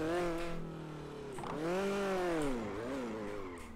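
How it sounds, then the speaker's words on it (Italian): A damaged car engine in a video game drones loudly with a rising and falling whine, revving up and down over a few seconds with no talking. "gli ho rovinato un po' la macchina, ma adesso fa tutto sto burdello"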